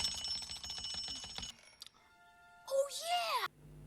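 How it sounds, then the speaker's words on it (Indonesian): An alarm clock rings in a bedroom in an animated toy story, a bright bell-like burst of ringing followed by other cartoon sound effects and brief quiet gaps. "alarm dari Sid tiba-tiba berbunyi dan membangunkan Sid"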